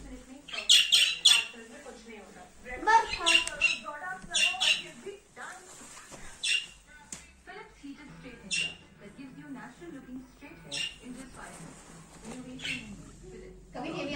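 Pet budgies in a cage squawk and chirp in sharp, busy bursts, loudest early on, then thinning into scattered chatter and tweets close to the listener.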